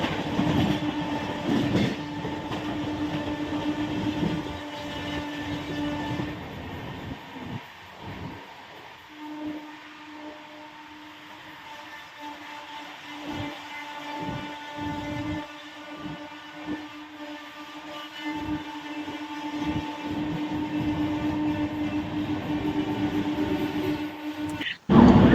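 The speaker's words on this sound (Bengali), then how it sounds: "তার পাশাপাশি কিছুক্ষণের মধ্যেই আবার ক্রস করছে 18045 ইস্ট কোস্ট এক্সপ্রেস।" The 18045 East Coast Express passes alongside on a neighbouring Indian railway line, its rumble and rhythmic clacking heard from inside a moving train, fading and returning over about twenty-five seconds.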